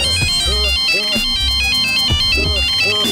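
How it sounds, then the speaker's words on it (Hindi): A mobile phone ringtone plays loudly and continuously, a repeating electronic melody over a beat, filling the whole stretch. "अरे किसका फोन बज रहा है?"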